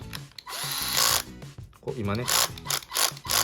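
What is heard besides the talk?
driver tightening a screw, clutch stopping at torque setting 3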